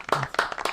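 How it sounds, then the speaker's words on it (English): A few quick, close hand claps in an uneven rhythm from a small group of people, short and fairly loud against a quiet background. "Clap it up, guys"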